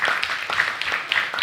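Audience applause for a philosopher at a talk and discussion with the audience, steady and moderately loud crowd clapping that continues for the whole short stretch.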